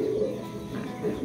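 A racing pigeon coos softly in low, rolling murmurs, close by, in a short burst with faint background noise.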